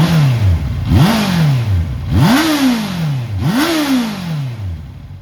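Honda CBR650R E-Clutch motorcycle engine revs up three times in quick succession, each blip rising sharply and then falling back, loud and close with no talking.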